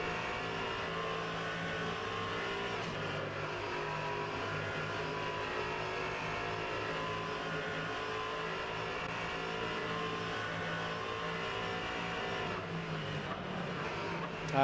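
A Duqueine LMP3 race car engine heard onboard in a sim racing game drones continuously at high revs, its whine rising and falling slightly through corners and chicane curbs.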